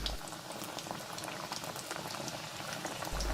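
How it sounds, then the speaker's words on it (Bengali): A masoor lentil and egg snack fries in oil over medium heat, a dense, close bubbling crackle that stays continuous and fairly loud with no talking. "আর এক পাশটা খুব ভালোভাবে ভেজে নিতে হবে"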